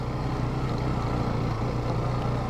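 Motorbike engine running steadily with a continuous low droning rumble, loud and close, unchanging throughout with no voices.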